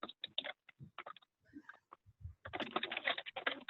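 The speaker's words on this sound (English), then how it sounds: "I'm still hearing someone typing." Rapid clicking of keys on a computer keyboard during an online meeting, a busy close patter of taps that swells into a dense, steady burst near the end.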